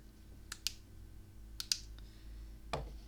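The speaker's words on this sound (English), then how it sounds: "Sorry if you hear a clicking noise," A few sharp clicks made by a person, spaced irregularly across a quiet room with a low hum beneath, each brief and moderately close, with no talking.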